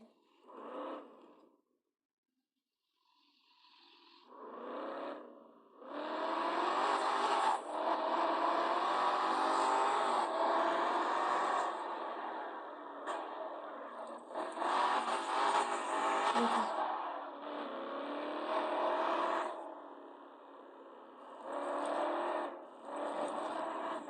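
Car engine in a video game, racing around a map and slowing on entry, with a steady whirring drive that revs and holds loud for long stretches, broken by brief drops and short bursts.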